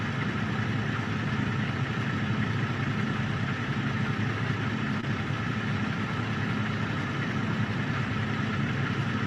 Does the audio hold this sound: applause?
no